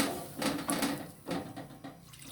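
Water is poured into a cooking pot of potato curry gravy, a soft gushing splash in a few short bursts, close and moderately loud in a home kitchen.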